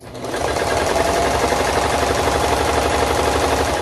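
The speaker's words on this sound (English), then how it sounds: "I'm just gonna serge around the edge." Serger sewing machine stitching around the curved edge of fabric for a newborn knotted gown, a fast continuous rattling whir, close and steady for several seconds without speech.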